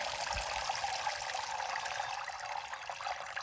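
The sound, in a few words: rainwater poured to dilute homemade plant food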